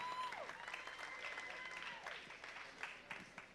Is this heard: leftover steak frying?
no